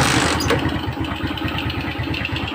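Suzuki Smash motorcycle with a freshly installed Verza piston, its engine already running in a steady close-up idle with rapid even firing pulses and a slight rev lift, loud and continuous with no talk.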